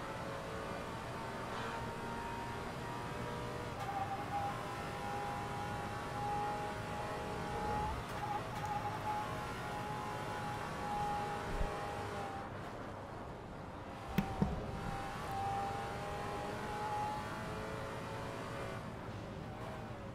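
A Maserati GT4 race car in a racing simulator game at VIR holds a steady, droning engine note that shifts in pitch as it revs and eases through corners, a continuous mechanical hum with no voices.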